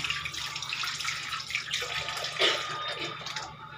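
A tap runs into a sink while a child brushes her teeth, a continuous hiss of flowing water with light splashing that swells slightly midway, close and steady.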